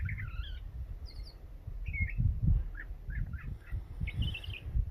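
Small birds chirp and twitter in short, scattered bursts in a quiet desert with juniper and agave, faint and somewhat distant above a low rumble of wind or handling noise.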